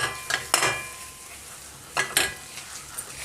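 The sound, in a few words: date mixture cooking and being stirred in a pan on low flame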